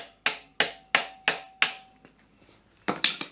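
During a Daihatsu Charade engine swap with timing belt work, a hammer taps a part into place: five sharp, evenly spaced metallic strikes, then a few softer knocks, close and loud with no voices.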